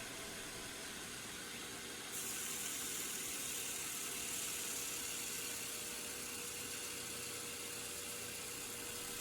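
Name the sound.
grinder grinding a steel knife blade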